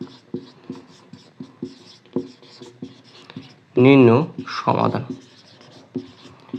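A pen writing out a math solution by hand on paper, with short scratchy strokes and taps in an irregular rhythm, close and fairly quiet, interrupted midway by a spoken voice.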